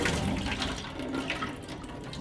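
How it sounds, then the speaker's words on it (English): Water sprays and splashes from a homemade Rube Goldberg machine, a steady, close hiss of rushing water with no talking. "Maybe you have that water spray on something."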